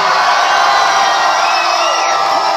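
A large concert crowd at a show cheers and whoops continuously, a dense, loud roar of many voices sustained throughout.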